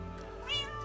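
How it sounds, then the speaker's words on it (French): A single short cat meow rises briefly over a steady low hum in Minecraft, faint and clear with no talking. "Il y a toujours un chat qui miaule"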